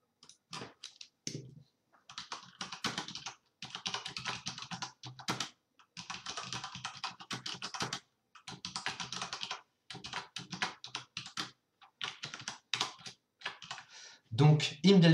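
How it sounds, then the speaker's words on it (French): A computer keyboard being typed on at close range, bursts of rapid clicking keystrokes broken by short pauses, fairly quiet with no voice over it, ending in a louder thump. "Je vais le taper en dessous plutôt."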